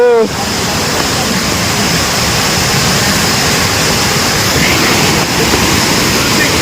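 Rushing stream water on the Netravathi Peak trek pours steadily close by, a loud continuous roar like a cascade, with a short voice at the very start.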